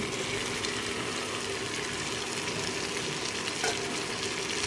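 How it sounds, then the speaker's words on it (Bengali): Pre-fried potatoes and pointed gourd dropped into a hot spiced pan, a steady loud sizzle with bubbling and stirring, continuous and close. "দিয়ে দিচ্ছি আগে থেকে ভেজে রাখা আলু আর পটলগুলো।"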